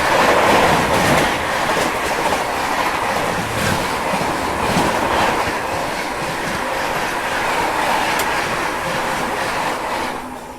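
The Bihar Sampark Kranti Express at speed, heard from inside: a loud, steady rumble with rhythmic wheel clatter and light squeals over the rail joints. Nobody talks.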